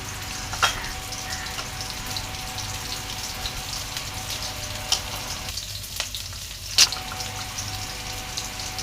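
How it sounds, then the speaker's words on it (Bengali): Chopped onions and chillies frying in oil in a wok, a steady close sizzle with a few sharp clinks and scrapes of a spatula, and no talking. "পেঁয়াজ মরিচটাকে আমি ভালো করে ভেজে নেব।"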